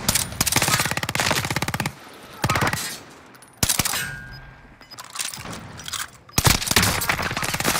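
Long bursts of automatic machine gun fire in a video game, rapid loud rattling volleys broken by brief pauses and single cracks.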